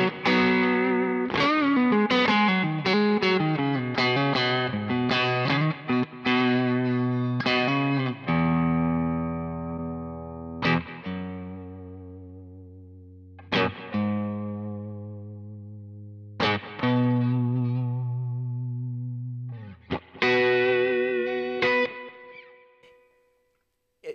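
An electric guitar runs through a Kemper amp profile with Fathead and gold microphone cabinet settings, playing a distorted, effects-laden passage of picked runs and ringing sustained chords that gradually thin out and fade.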